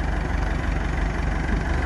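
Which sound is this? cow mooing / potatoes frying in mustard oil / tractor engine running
tractor engine running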